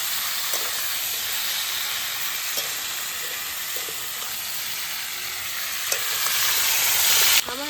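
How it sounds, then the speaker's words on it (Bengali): Raw mango pieces are stir-fried in a pan for sweet-sour-spicy pickle, a steady hissing sizzle with occasional spatula scrapes that swells louder toward the end. "ভালোভাবে আমগুলো কিন্তু কষিয়ে নিতে হবে 10-15 মিনিট ধরে।"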